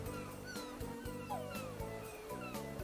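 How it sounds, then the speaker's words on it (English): A dog in a video game yips and whimpers in quick repeated bursts over looping game music, close and clear, with a few higher whines mixed in. "Dog. Pupper."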